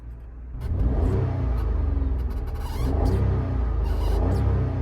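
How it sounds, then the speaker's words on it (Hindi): A Maruti Suzuki WagonR CNG engine with about 200,000 km cranks and catches, then settles into a steady running hum with a few revs, heard nearby without any talking. "अभी मैं आपको इंजन स्टार्टिंग की नॉइज सुना देता हूँ।"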